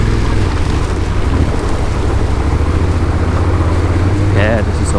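Small motorbike ridden off-road in second gear on a Swedish trail, its low, even engine drone partly buried under heavy wind buffeting against the microphone.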